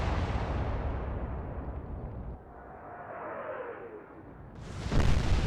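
Royal Navy warship guns fire in the naval video game Atlantic Fleet: a deep, loud boom rumbles and fades away over a couple of seconds, then a second sharp blast bursts in near the end, with no talking.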